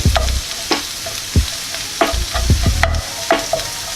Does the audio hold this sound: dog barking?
no